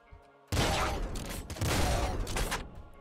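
Dense, continuous gunfire in the video game Nuclear Throne, erupting suddenly and rattling on loudly for several seconds as a rapid barrage of synthetic shots.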